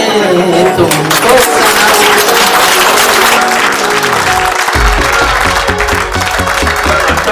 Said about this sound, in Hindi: और एक बार जोरदार वाली तालियां हो जाए।